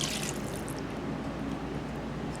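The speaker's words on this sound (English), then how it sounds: "I'm going to add just a bit of water to it." Water poured into a pot of simmering tomato sauce with chicken, a steady faint liquid trickle and splash that runs without pause through the short stretch, with no voices.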